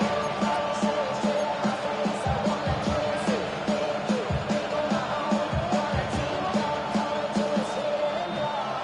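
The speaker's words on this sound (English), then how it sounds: "The crowd cranking it up another notch before 3rd and long" Stadium crowd roar in the Madden 26 football game, a dense, sustained wall of cheering and shouting late in the fourth quarter before third and long, with no commentary talk over it.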